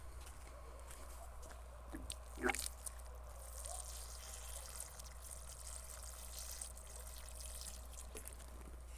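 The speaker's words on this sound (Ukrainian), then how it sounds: "Тепер гарненько проливаю водичкою з укорінювачем." Water mixed with a rooting stimulant is poured over juniper seedlings outdoors, a soft steady trickle and splash under a constant low hum, with a brief louder splash partway through.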